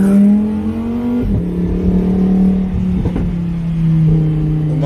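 A car drives and accelerates, its engine revving loud and close in steady rising pulls with brief gear-shift dips between them.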